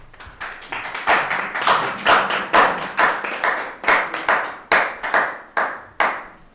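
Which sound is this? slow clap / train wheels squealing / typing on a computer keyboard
slow clap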